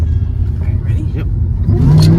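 A supercharged Mercedes E55 AMG engine pulls hard on kick-down, a loud, close rising roar with low rumble building toward the end, while a voice talks over it.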